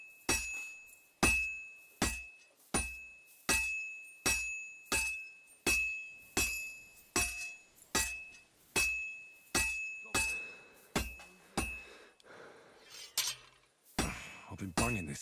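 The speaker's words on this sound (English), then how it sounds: "Going to sleep to blacksmith sounds." A blacksmith hammers metal at a forge in the medieval game Kingdom Come: Deliverance II, a loud metallic ring on each strike in a steady rhythm about twice a second, growing more irregular and clattering toward the end.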